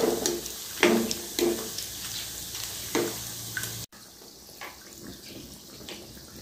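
Potato nest bites frying in hot oil, a continuous close sizzle with bursts of spattering and ladle clinks as oil is spooned over them, then a softer, steadier bubbling after a brief cut, no voices.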